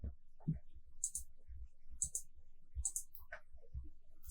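Quiet, sharp computer mouse clicks spaced about a second apart, with faint low thumps in a hushed room.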